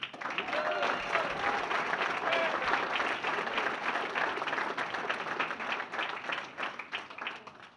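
Crowd applause at a university hall of fame induction ceremony, steady dense clapping throughout, with cheering voices and a few talking voices mixed in.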